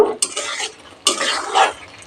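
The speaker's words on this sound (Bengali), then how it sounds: "ভাজা আলু দিয়েও কষানো হয়ে যাবে" Fried potatoes and ground spices sautéed in a pan for aloo matar paneer: two close, fairly loud bursts of spatula scraping and stirring against the pan over a soft frying hiss.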